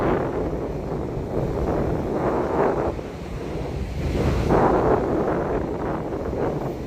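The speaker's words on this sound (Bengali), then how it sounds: "এখানে সমুদ্রে ভালোই ঢেউ আছে" Sea waves at Bakkhali roll and crash in repeated surges, loud and close, with wind buffeting the microphone and no talking.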